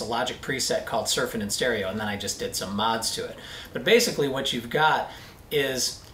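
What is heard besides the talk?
No everyday noises stand out.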